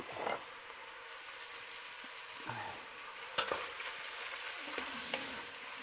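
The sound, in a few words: meat browning in a frying pan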